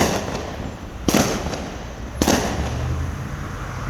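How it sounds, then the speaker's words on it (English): Two sharp, distant cracks outside, about a second apart, each a sudden loud report standing out against a quiet background hiss, with a faint hum beneath. "That's different from the normal fireworks you hear. That right there, that was gunshots."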